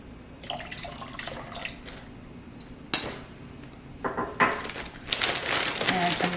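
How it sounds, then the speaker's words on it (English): Tap water runs into a big bowl at a kitchen sink, a steady splashing rush that swells and fades in bursts, with a few clinks of dishes in between. "So I get a big bowl of water."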